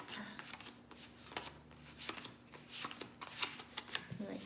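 A deck of playing cards is shuffled in repeated quick riffles and flutters, close and fairly quiet over a steady low hum, with faint background voice.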